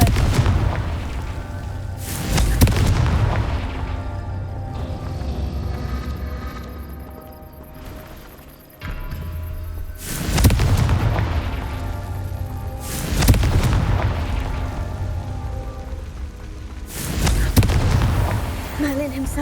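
Repeated Confringo blasting-spell explosions in the video game Hogwarts Legacy, a few loud booming blasts spaced several seconds apart over a steady game soundscape, each with a sharp onset and rumbling tail.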